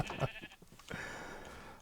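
Sheep in the Minecraft video game bleating, a couple of short, close bleats in quick succession.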